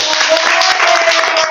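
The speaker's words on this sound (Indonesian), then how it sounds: "Tepuk tangan buat leader Yel Yel." Applause for the leader of a cheer team at a school event, a dense, steady patter of many hands clapping that fills the short moment without a break.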